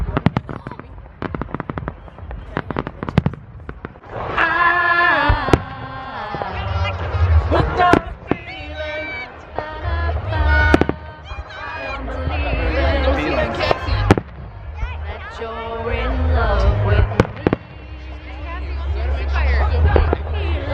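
Fourth of July fireworks in a town, with repeated sharp bangs and crackles near and far, loud booms at irregular intervals under a chatting crowd.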